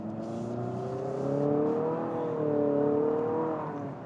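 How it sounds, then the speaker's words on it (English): A low, steady engine hum with a broad road rumble inside the cabin of a 2023 Infiniti QX55 crossover coupe, rising slightly in pitch now and then, with no talking. "it's just minor engine noise and road noise coming into the cabin"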